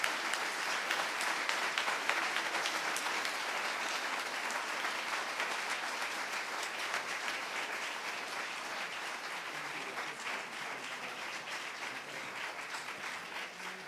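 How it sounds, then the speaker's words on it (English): A lecture audience gives a long, warm ovation for economist Professor Richard Wolff, a dense wash of many hands clapping that stays full and steady and tapers slightly toward the end. "So I want you to join me in giving a big round of applause to Rick Wolff, Professor Richard Wolff."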